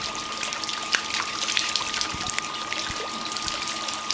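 Water from a rain chain fountain trickles and splashes steadily down the chain, a close, continuous bright patter with occasional louder drips.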